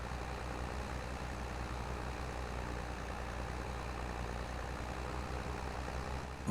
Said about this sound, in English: I can hear the engine now that I don't have to pull that much